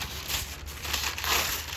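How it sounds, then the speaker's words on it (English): Soft crackling and crinkling as paper slowly pulls away from a chicken coop kit's roof panel, quiet and close, with small tearing bursts. "the paper's like sticking to it"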